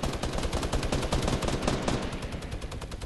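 Rapid minigun fire from the Fortnite video game rattles in one continuous dense burst, loud and close, with no voices over it.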